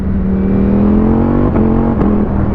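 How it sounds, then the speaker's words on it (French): A loud Ducati V4 S motorcycle engine with an Akrapovič exhaust holds a steady high rev, with brief dips like quick gear shifts near the end. "La sonorité à l'échappement de cette Acra est incroyable."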